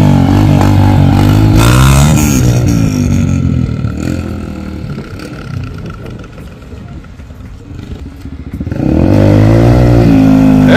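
A Yamaha TTR 125 four-stroke dirt bike ridden through woods, its engine loud and close as it revs hard, eases off in the middle, then roars back up, with clatter from the trail.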